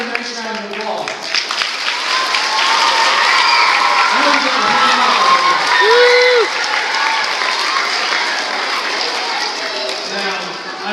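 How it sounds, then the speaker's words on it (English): Audience applause at a school retirement farewell, sustained loud clapping from a crowd in a room with scattered cheers and voices mixed in, swelling through the middle before tapering off. "How about another nice round of applause?"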